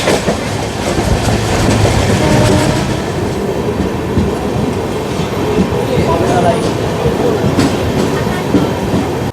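The 13125 Kolkata Sairang Express rolls along the rails, a loud, continuous clatter of wheels and carriages with rhythmic clickety-clack and occasional metallic squeal throughout.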